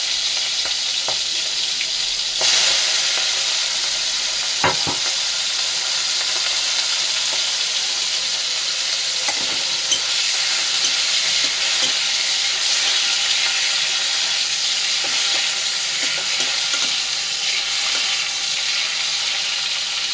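Prawns sizzle and fry steadily in a pan for a Bengali prawn kosha, with occasional sharp scrapes and knocks as a spatula stirs them, the hiss close and continuous throughout.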